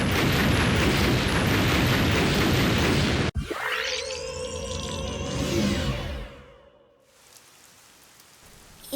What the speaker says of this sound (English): Bomb will detonate in 5 seconds.